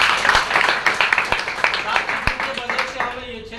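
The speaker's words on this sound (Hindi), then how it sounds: "सबके लिए होगा जोरदार ताली।" An audience at a DXN business seminar claps in a dense burst of rapid, close clapping, with a speaker's voice running over it and fading out toward the end.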